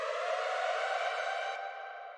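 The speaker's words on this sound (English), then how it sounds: "So there's like this little siren." A short electronic siren effect in a jump-up drum and bass production, a steady high wailing tone sustained loud and alone before tapering slightly at the end.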